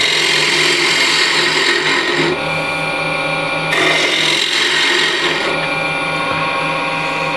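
A wood lathe spins while a woodturning tool cuts the workpiece, producing a loud, sustained whirring rasp that eases off briefly midway and then resumes.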